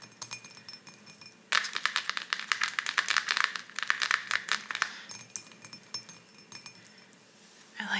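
Porcelain watercolor palette or mixing dish clinking close up, a dense run of bright, rapid ringing taps lasting a few seconds, then fading to a few softer clinks.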